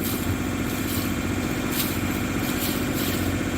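A Volvo Penta boat engine revs up to about 1500 RPM, a steady loud mechanical drone with a low throb running continuously without pause.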